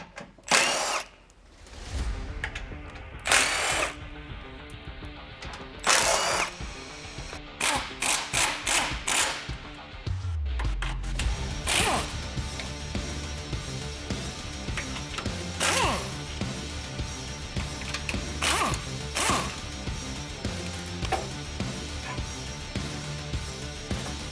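Power drill and hand ratchet backing out the four 12mm bolts of the carpeted front skid plate under a 2022 Toyota Tundra; bursts of whirring drill alternate with loud rapid ratchet clicking, close by, with no talk.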